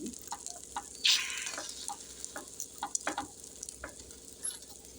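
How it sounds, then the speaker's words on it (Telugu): Egg paniyaram fry in a pan over a low flame with a faint, continuous sizzle, scattered light pops and ticks, and one brief metallic scrape near the start. "ఫైవ్ మినిట్స్ తర్వాత ఇవి ఫ్రై అయిపోయింది ఇవన్నీ ఇలా మళ్ళీ సెకండ్ వైపుకు తిప్పేసుకోవాలి"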